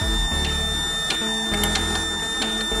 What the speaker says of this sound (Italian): la stampante produce metri e metri di nastro in pochissimo tempo